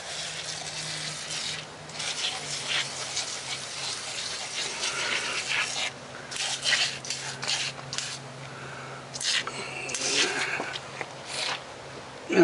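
Engine cleaner sprayed from an aerosol can onto golf cart batteries, a series of close hissing spray bursts separated by short pauses.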